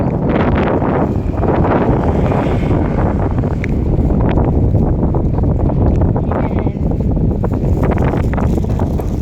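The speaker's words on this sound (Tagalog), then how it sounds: "Grabe, napakalakas ng hangin." Loud, strong wind roars constantly against the microphone, a heavy unbroken rumble with occasional rustling bursts and no letup.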